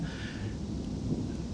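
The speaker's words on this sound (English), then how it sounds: "Perhaps you can hear that thunder rolling in the background." A late summer afternoon thunderstorm sends a soft, continuous low rumble of rolling thunder, distant and steady throughout, with a faint airy hiss above and no voices.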